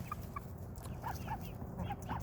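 Hens clucking on a farm where ducks and chickens share a lavender patch, soft intermittent calls close by over a steady low background murmur.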